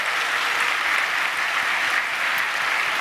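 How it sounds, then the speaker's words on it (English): Sustained applause from a large keynote audience at a summit for a software development team, a dense, even roar of many hands clapping throughout. "I would like to just please ask you for a round of applause for the Acumatica development team"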